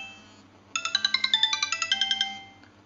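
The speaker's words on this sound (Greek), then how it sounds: "αυτό τώρα θα κάνει μια κλίση στο κινητό μου" A mobile phone rings with an incoming call, a rapid electronic trill of repeated bright beeps that pulses steadily for a couple of seconds before stopping.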